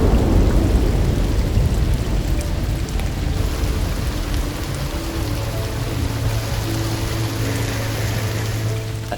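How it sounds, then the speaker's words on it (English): Heavy rain pours steadily on a boat near Cannes, with a deep thunder rumble at the start fading away, leaving a dense hiss of rainfall and a low hum. "a thunderous downpour started just as we were about to collect our visitors"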